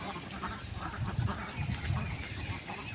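Three Khaki Campbell laying ducks quack and honk in short, uneven bursts. The calls are moderately close and come through a low background with no speech.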